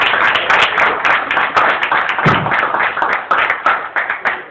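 A congregation claps and applauds at a thanksgiving church service held in a couple's home, a dense, steady wash of many hands clapping loudly and close, continuing throughout without pause.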